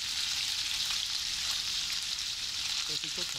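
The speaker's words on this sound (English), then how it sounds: "Frying up the bacon with my bare hands." Bacon frying in a pan gives a steady, close, loud sizzle with dense crackling hiss throughout, and brief voice-like tones surface near the end.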